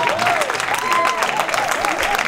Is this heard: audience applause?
yes